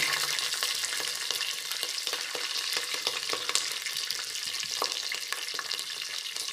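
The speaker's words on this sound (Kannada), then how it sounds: "ಈಗ ಮೆಣಸಿನ್ಕಾಯಿ ಹಾಕ್ತಾಯಿದ್ದೀನಿ" Green chillies sizzle in hot oil with cardamom and fennel for vangi bath, a continuous close crackle and hiss broken by frequent small pops and light stirring scrapes, with no voices.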